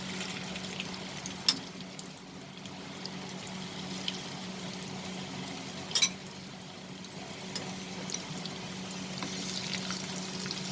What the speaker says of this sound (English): So now I'm going to add the prawns to it.